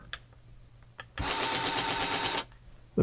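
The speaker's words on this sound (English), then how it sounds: "The printer makes noise, which is a good sign." A Tandy pocket computer's small printer runs in one burst of about a second, a dense, rapid mechanical chatter with a steady buzz, starting and stopping abruptly after a few faint clicks.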